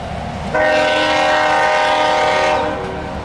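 A loaded CSX ethanol freight train sounds a loud, sustained horn blast as it passes close by, the blare holding for about two seconds over the rumble of rolling cars before fading back to the rail noise.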